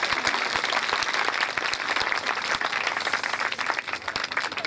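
Steady applause from a crowd at a high school annual ceremony, dense clapping filling the whole stretch at an even, lively level with no talking.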